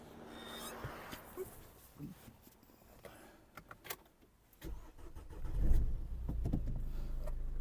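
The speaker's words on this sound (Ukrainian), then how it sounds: "Зараз ми запустимо двигунчик, послухаємо, як він працює" A 2010 Renault Grand Scenic III with a 1.9 dCi diesel engine: clicks and switching noises lead to the starter cranking, then the engine catches and settles into a loud, low, steady diesel idle close by.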